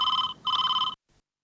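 A telephone bell rings in two clear bursts with a short gap between, loud and close, in a household setting before falling silent.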